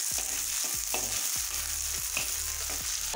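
Chopped onions with garlic and green chillies fry in a pan until light brown, with a steady sizzle broken by repeated rhythmic scrapes and knocks of a spoon stirring.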